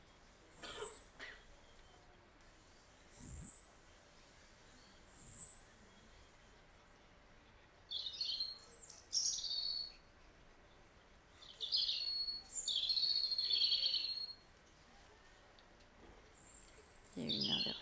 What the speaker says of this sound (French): Un poussin de poule